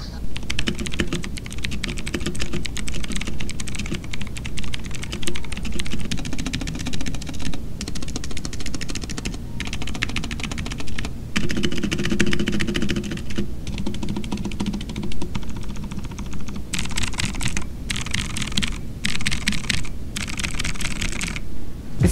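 Keyboard typing sound test on a mechanical keyboard fitted with a rubber case: a continuous stream of fast, close, muffled key clacks with brief pauses, running throughout at steady loudness.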